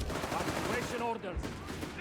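Bursts of rapid machine-gun and rifle fire crackle in a Company of Heroes 3 battle, dense and continuous over two seconds with low rumbling beneath, no talk heard.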